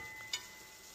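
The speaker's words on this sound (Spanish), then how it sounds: "luego que se dore con su propia grasa" Pork frying in its own rendered fat, a soft steady sizzle close up with one brief brighter crackle.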